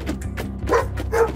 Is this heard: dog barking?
yes